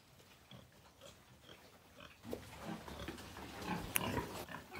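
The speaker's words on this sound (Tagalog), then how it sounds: "5 months namin na baboy." Five-month-old pigs grunt in a pen, a scatter of low snorts and grunts growing louder and busier in the second half, with a brief sharper squeal near the end.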